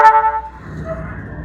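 Road traffic near a roadside house, where a vehicle horn gives a few short honks up close, followed by a low rumble of passing cars and buses.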